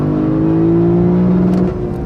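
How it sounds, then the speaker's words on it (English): A Lexus LC500 V8 engine holds high revs against the rev limiter, a loud, close, sustained droning roar that drops off sharply near the end. "a car that goes off the rev limiter like that"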